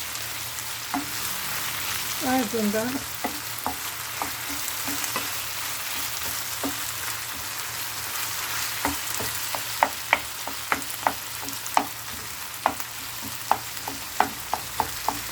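Food sizzles steadily in a frying pan while a utensil stirs, scraping and tapping against it, with sharper clinks growing more frequent toward the end.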